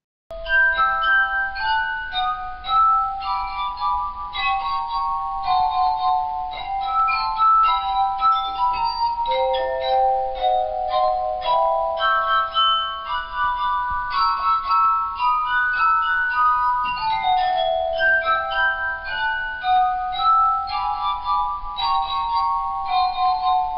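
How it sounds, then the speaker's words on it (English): Wine glass partly filled with water sung by a finger rubbed around its rim, producing sustained, pure ringing tones that shift up and down in pitch as a continuous glass-harp melody, loud and steady with no talk. "The friction from your finger moving around the rim of the wine glass will vibrate the glass itself."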